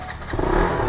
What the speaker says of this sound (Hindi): पहले थोड़ा सा कोल्ड स्टार्ट दे ही देते हैं